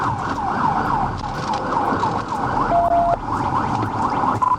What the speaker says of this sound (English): When the vehicle failed to stop, Trooper Shoemate activated his siren and PA system